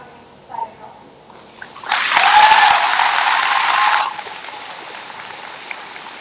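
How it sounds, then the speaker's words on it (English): Audience applause for the contestants at a county fair coronation, Jackson County 2022, swelling suddenly after a quiet start, loud and sustained for about two seconds, then cutting off. "I think we need another big round of applause for all of these girls."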